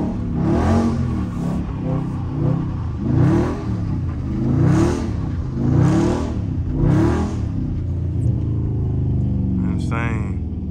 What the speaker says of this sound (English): Even touching the gas, look how it just spin out.